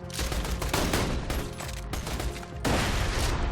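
Sustained gunfire from a Borderlands 2 weapon, a loud continuous burst of rapid shots with a brief break near the end before the firing resumes, with no talk.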